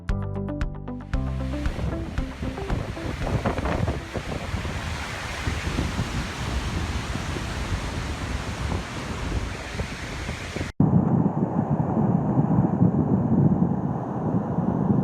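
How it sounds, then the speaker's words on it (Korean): Dettifoss, Iceland's largest waterfall, roars as a steady, loud broadband rush of falling water and spray, mixed with gusting wind buffeting the microphone throughout. "아이슬란드에서 가장 큰 폭포 데티포스입니다"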